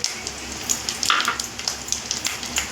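Whole spices and a bay leaf, dropped in after curry leaves, fry in hot oil in a pan for a veg kaju fry masala, a steady close sizzle with crackling pops and a few stirring scrapes.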